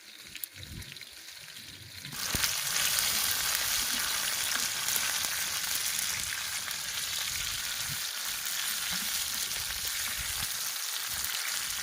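Valai kendai fish frying in hot oil with curry leaves, a faint quiet start that jumps after two seconds into a loud, steady, dense sizzle that carries on alone to the end.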